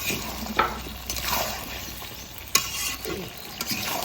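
Chicken and potato pieces being stirred and fried in a pot for a papaya curry, with scraping spoon strokes and clinks over a constant sizzle, close and moderately loud.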